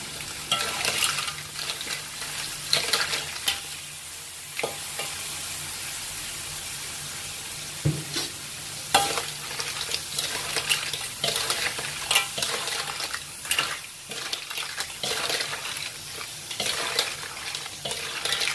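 Clams sizzling and frying in sambal chili paste while a spoon or spatula stirs and scrapes the pan, a continuous hiss broken by occasional clinks and scrapes.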